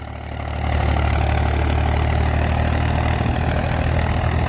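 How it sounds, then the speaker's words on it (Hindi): A Mahindra 265 tractor engine runs steadily under the load of a 7-foot rotavator in a field. The loud, continuous diesel drone builds up over the first second, then holds even and close without any talk. "7 फुट रूटर पे भी कोई फर्क नहीं है ट्रैक्टर को।"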